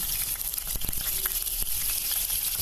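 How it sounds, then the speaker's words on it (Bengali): Potatoes fry in hot oil for a Bengali chicken bhuna, a constant close hiss of sizzling with a few soft stirring knocks. "আমি আলুগুলোকে ভালোভাবে ভেজে নেব"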